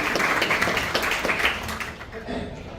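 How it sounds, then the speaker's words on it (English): Audience at an informational forum on the crisis in Haiti breaks into a round of applause, loud and dense clapping that tapers near the end as a voice begins speaking. "Let's give them a big round of applause."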